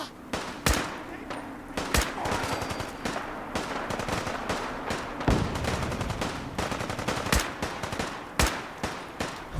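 Bursts of rapid automatic gunfire and sharp single shots crack out while a player is under fire in Fallout 4, loud and close, broken by brief pauses, with a voice talking faintly underneath.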